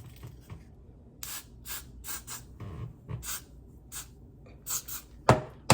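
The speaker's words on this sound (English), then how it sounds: "You're gonna spray it with your gots to be spray." Repeated short hissing bursts of spray, close by, in quick uneven pulses with soft rubbing sounds between.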